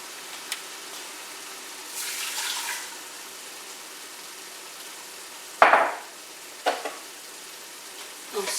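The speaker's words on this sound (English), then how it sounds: "I'll stir this around." Louisiana gumbo stirred in a pot, with a soft simmering sizzle and a few distinct scraping, clattering strokes of the utensil against the pot, spaced irregularly with quiet between.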